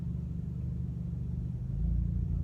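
Loud aftermarket exhaust on a 2019 Honda Accord, driven with the paddle shifters: a steady low droning hum that swells into a deeper, louder rumble partway through, heard from inside the car with no talking.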